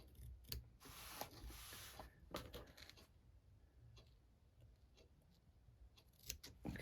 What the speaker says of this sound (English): So, take our scissors. Again, snip on that line.